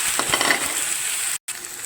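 Close, loud sizzling of shallots frying in hot oil, a steady crackle broken by a brief moment of silence.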